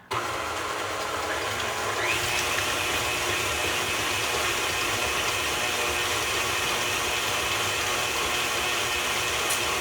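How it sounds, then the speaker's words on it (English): An electric mixer beats an egg and vanilla with sugar for cornflake cookie dough, giving a continuous close motor whir with slight mechanical rattle from start to finish. "I'm not sure if you're going to be able to hear my voice over the mixer very well, but just beating the egg and the vanilla"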